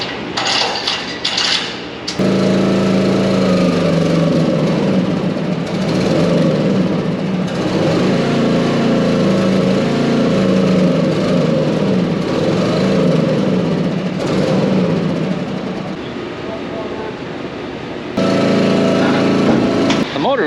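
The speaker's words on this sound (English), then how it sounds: "Motor was just shutting off on me there." A roll-off dumpster truck motor, loud and steady, droning close by for most of the stretch, cutting out briefly in places as if stalling, with some talk faintly beneath it.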